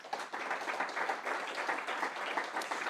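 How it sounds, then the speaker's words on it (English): A conference audience applauds panelists steadily, a dense wash of many hands clapping at even strength for the whole stretch, with no one speaking. "But a round of applause for our panelists."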